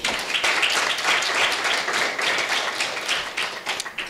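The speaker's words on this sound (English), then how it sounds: "can we all give a round of applause for Clouds Media Group?" Audience applause at an International Day of the Girl Child event, a crowd clapping loudly and continuously at close range, the claps thinning slightly toward the end.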